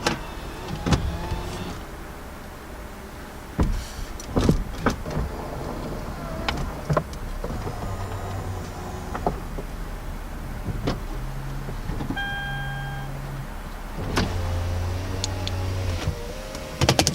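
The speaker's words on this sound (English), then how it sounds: "we're gonna put the top up real quick. This is a really cool process that I like it. It's a convertible hardtop car." Power motors whir and hum in changing stages while the retractable hardtop roof of a Lexus IS250C convertible closes, with a few sharp clicks and latching thuds between the runs. The car is close by and no one speaks.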